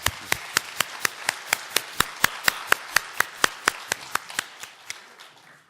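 A church congregation claps in encouragement, a steady run of about twenty evenly spaced, sharp claps in unison that fades slightly toward the end, with no talk over it.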